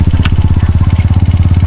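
Motorcycle puttering along a rocky mountain path, its engine close and steady with a rapid thumping pulse and faint clatter.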